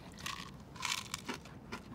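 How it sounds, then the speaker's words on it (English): Someone crunches Nerds candy, a series of crisp bursts of small crunchy sugar bits being chewed close to the mic, three or four grouped bites within two seconds, with no talk. "They start sweet, they end sour, they're crunchy."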